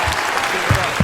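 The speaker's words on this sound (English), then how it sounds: "Why is he clapping the mic?" A man claps right into a microphone, giving a couple of sharp, loud claps close to the mic.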